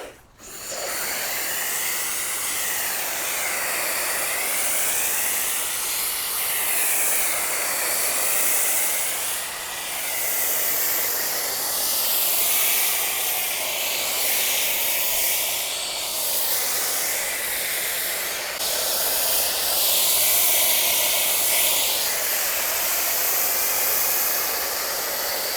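Jay Leno's Garage ceramic shampoo snow foam sprays steadily onto a car as a loud, continuous hiss that runs almost unbroken, with slight surges and dips in the spray.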